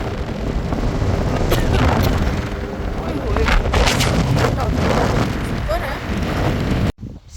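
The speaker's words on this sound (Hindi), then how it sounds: "हवा इतनी चल रही है कि हम आगे तो जा रहे हैं लेकिन हवा हमें पीछे लेके जा रही है।" Strong wind buffets the microphone on a moving motorcycle, making a constant loud roaring rumble. Gusts swell and fade throughout, then the noise cuts off abruptly near the end.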